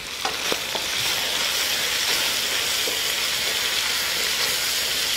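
Onion frying and caramelizing in a hot wok for broccoli beef with oyster sauce: a loud, dense, unbroken sizzle with a few scraping stirs near the start, up close and without talk.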